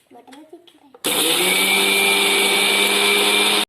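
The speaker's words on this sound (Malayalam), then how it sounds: "പഞ്ചസാര ഇട്ടിട്ട് നമുക്ക് ഇനി അടിച്ചെടുക്കാം" A kitchen mixer grinder grinding sugar and cardamom roars to life after a brief voice, running loud and steady for a few seconds before cutting off.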